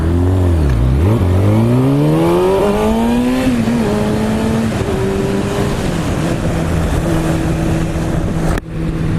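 A 2016 Kawasaki Ninja ZX6R revs hard and close, dips, then climbs through rising gears into a steady high whine under loud wind rush, ending in an abrupt cut.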